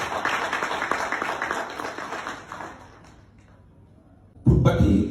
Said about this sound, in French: Donc applaudissez-le encore une fois.